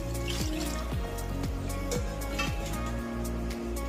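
Water poured into mutton kheema for pulao, a run of rhythmic glugging drips with descending tones repeating about every half second, fairly faint and close, with no talk.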